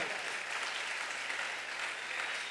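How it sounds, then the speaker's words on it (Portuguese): A church congregation at a Portuguese-language service claps steadily, a thick, even wash of many hands filling the whole moment without speech. "Quer aplaudir Jesus, aplauda."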